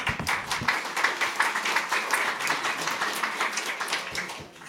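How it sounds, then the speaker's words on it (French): Conference audience in Combloux applauding a speaker, a close, continuous burst of many hands clapping with a rhythmic pulse, loud and steady throughout, with no voices over it. "On peut l'applaudir, effectivement."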